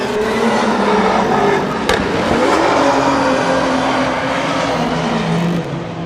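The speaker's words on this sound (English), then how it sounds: "diesel anti-lag can be really powerful" A drift car's engine with diesel anti-lag roars loudly and continuously at a practice session, with shifting pitch and a sharp crack near the two-second mark, then fades slightly at the end.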